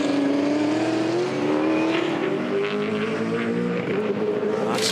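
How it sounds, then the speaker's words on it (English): A V8 Supercar races at Sandown, a loud steady engine note holding and shifting pitch as the car rides over the kerbs, with a brief sharp burst near the end. "David Bernard in the background there going right over the curbs in the Caltex Haviland car."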